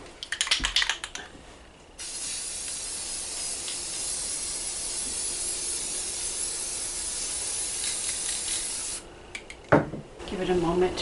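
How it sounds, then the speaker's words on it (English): Metallic gold spray paint hisses steadily onto decorative stars hung inside a homemade painting box, one long continuous spray bracketed by rattling and handling noises at the start and end. "I just need to spray paint the stars with metallic gold paint."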